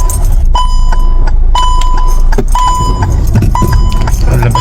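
Hyundai Creta car driving in first gear, a loud close engine drone inside the cabin with repeated short electronic chimes and faint rattles over the steady road noise.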